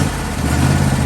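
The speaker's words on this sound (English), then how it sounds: "You gotta take your key, you wanna start your mower" A John Deere E160 riding lawn mower engine runs loud and close, a steady low rumbling drone with no talking.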